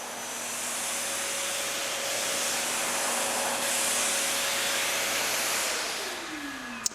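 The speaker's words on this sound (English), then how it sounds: "Now I'm just doing a dry vacuum to pull it all up." A carpet extractor dry vacuuming carpet gives a loud, steady roar with a high whine and hiss throughout, its motor pitch dropping near the end as it winds down.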